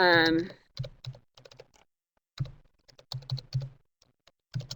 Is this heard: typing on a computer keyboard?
yes